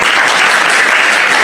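A brief, dense burst of applause from an audience, loud and even throughout, with no pauses.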